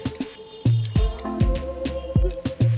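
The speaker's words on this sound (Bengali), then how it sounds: "আমি এইভাবে জলের সাথে মিশিয়ে দেব।" Water being stirred and splashed in a bucket while mixing in Trichoderma viride, heard as a series of close wet sloshing splashes and drips repeating roughly every half second.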